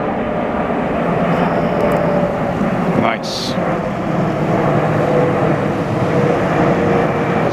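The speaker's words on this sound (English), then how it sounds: "Air France coming in." An Air France airliner on landing approach roars overhead with a broad, steady rumble of jet engines, loud and sustained, while a person briefly speaks.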